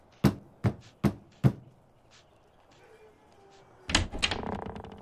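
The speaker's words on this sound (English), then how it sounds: "Knock on the door and let's see who answers." Four sharp, evenly spaced knocks land on a wooden door in the video game Fable II, followed after a short pause by a clattering burst as the door is opened.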